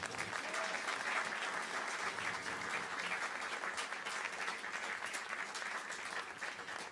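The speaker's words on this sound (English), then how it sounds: "Please give them a huge round of applause." Sustained applause from a concert audience at a St Patrick's Day celebration, many people clapping in a dense, even roar that holds for several seconds at a moderate distance.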